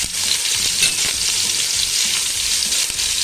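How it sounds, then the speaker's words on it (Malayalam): Sliced onions fry in a pan with a loud, continuous hiss and sizzle, with occasional stirring scrapes and no voices. "നമ്മൾ സ്ലൈസ് ആക്കി വെച്ചിരിക്കുന്ന സവാള കൂട്ടിലേക്ക് ഇട്ട് കൊടുക്കുക"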